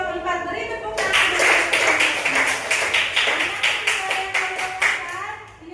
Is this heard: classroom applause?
yes